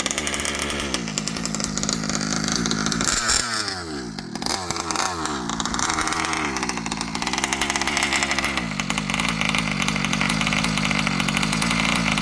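An ALX 71cc chainsaw engine idles steadily with a raspy, buzzing two-stroke drone, loud and close, briefly dipping and wavering in pitch partway through before settling back to a constant idle.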